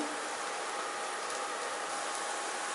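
Bitter gourd frying in oil in a pan over a medium flame, a dense, steady sizzle that stays even and fairly loud throughout, with no voices.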